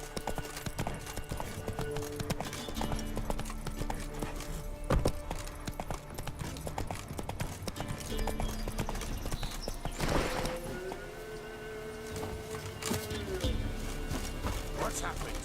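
Horse hooves clip-clop steadily in The Witcher 3, a continuous rhythmic trot under game ambience with voices in the background.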